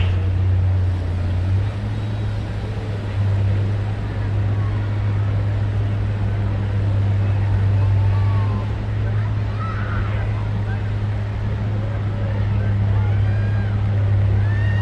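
An Oliver 1600 tractor at a tractor pull roars with a loud, sustained engine drone that never lets up, with faint crowd babble blending into the din.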